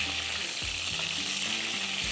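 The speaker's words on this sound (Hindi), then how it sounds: "चलो जी, इसको हम फ्राई करते हैं यहाँ पर कबाब हमारे।" Kebabs frying in a pan, a dense continuous sizzle with faint scraping and clinks of stirring, steady and close with no voices.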